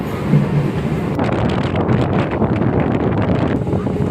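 Steady rumbling roar inside a nearly empty moving train, with continuous rattling wheel noise and wind buffeting, close and loud throughout with no talking.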